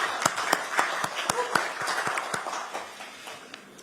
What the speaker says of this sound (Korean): 큰 박수로 격려해 주시죠.